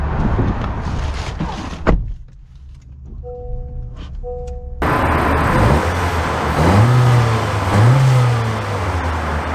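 2023 Honda CR-V EX with turbo engine driving, a cabin engine hum broken by a door thud and a quiet spell with chimes, then road noise and rising acceleration swells, steady and close.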